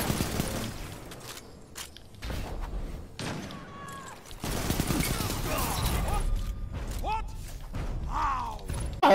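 Gunfire and sniper shots in a video game sound in scattered sharp bursts amid shifting battle noise and thuds, with people talking throughout.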